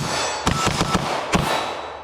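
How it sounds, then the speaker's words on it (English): Several sharp, loud reports in quick succession from a Bul Armory Tac Pro 5-inch pistol at a range, each a sudden blast with a short echoing tail. "we got my first shots of the day here with the Bul Armory Tac Pro 5-inch"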